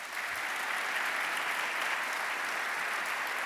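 An audience at a debate claps steadily for the two debaters, a dense, even wash of applause that holds throughout with no break.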